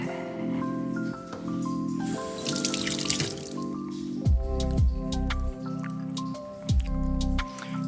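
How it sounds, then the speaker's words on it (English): A jalapeno is rinsed under a running kitchen tap, with water splashing and dripping at close range and a few squishy handling sounds, which get louder and more uneven partway through. "Jalapeno, let me wash that."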